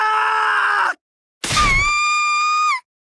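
A sudden scream rings out in The Hundred Line -Last Defense Academy- video game, a loud harmonic cry that follows a groaning voice and a short gap, breaking off abruptly after about a second.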